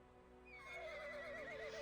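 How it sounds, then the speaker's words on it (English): A warhorse whinnies in a dramatized battle story: a single faint, wavering neigh rising out of quiet background and trailing off, with no talk. "A few warhorse neigh."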